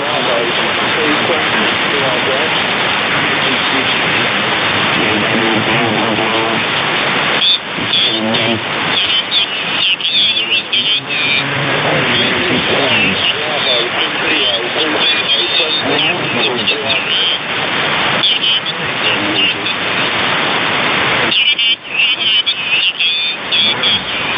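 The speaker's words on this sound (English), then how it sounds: "Just the static in the overflow car." Continuous radio static hisses from a 27MHz CB receiver tuned with SDR software, a steady band of noise under talk that fills the whole clip.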